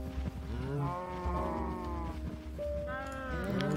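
A cow in the Minecraft video game lets out drawn-out moos, several overlapping low calls in succession, loud and steady with no talking over them.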